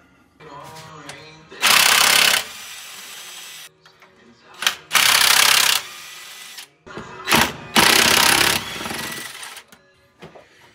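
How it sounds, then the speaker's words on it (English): An impact wrench loosens cylinder head bolts on a Ford 5.0 302 small-block V8 engine. Three loud, close rattling bursts are separated by short pauses that carry faint clanks of handling. "let me bust these head bolts off and see what I got under here"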